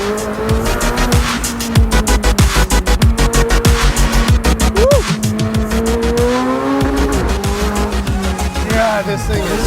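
A 2020 McLaren 720S Spider supercar driven hard, its engine roaring and climbing through rapid gear shifts with repeated pulsing bursts, loud and close throughout.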